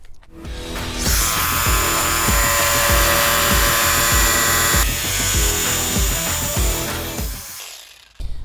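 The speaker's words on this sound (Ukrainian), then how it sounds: "а зараз ріжемо ламінат" A cordless Metabo jigsaw with an ordinary upward-tooth blade buzzes loudly through laminate for several seconds with a rapid rasping reciprocating rhythm, then winds down and stops.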